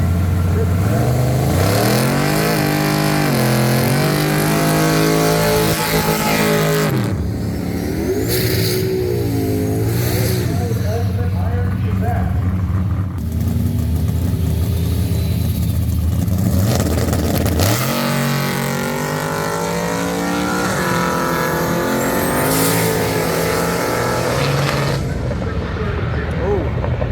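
A drag racing car's engine revs hard and loud through repeated rising runs, sputtering and breaking up at the top end, with brief dips between pulls.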